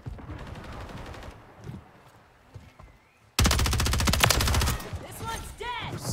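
Rapid automatic gunfire from a Modern Warfare 3 multiplayer match: quieter shots and game sounds at first, then a loud, sustained close-range burst that tails into ricochet-like whines.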